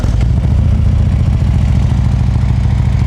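A Harley-Davidson Road King FLHR with Vance & Hines exhausts idles with a deep, loud, continuous rumble close by, the irregular low beat of the V-twin running steadily throughout.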